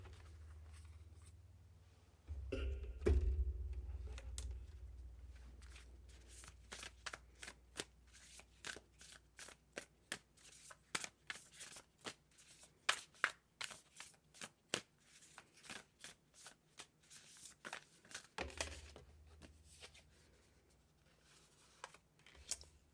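Tarot cards shuffled by hand in a long run of crisp riffling and flicking, with dense rapid card snaps and a few heavier bridge-like bursts near the start and end, close and fairly quiet with no voices.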